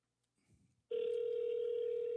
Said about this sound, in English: I'm going to call my girl right now while I'm on the phone